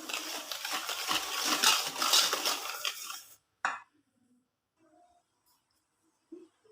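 A spoon mixes flour, a little salt and baking powder in a bowl for homemade coconut cookies: about three seconds of busy scraping and clinking, then a single sharp tap and near silence.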